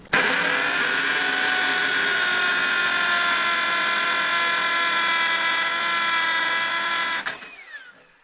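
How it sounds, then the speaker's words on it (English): A high-pitched electric drill whines steadily for about seven seconds, then winds down and stops. "Now we always drill on the way out to clean up after you."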